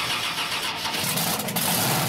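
A 1,700-horsepower methanol-fuelled monster truck engine, the 7-ton Blown Thunder, roars loud and close with a dense, steady broadband rumble throughout, without any talk.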